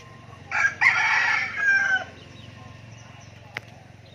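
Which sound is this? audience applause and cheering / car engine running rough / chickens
chickens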